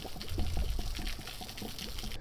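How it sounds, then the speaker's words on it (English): Water and vinegar drain out of the drain plug of an Atwood RV water heater in a steady, close gushing pour that runs through the whole clip without pause. "we just got through draining out the water and the vinegar through the drain plug"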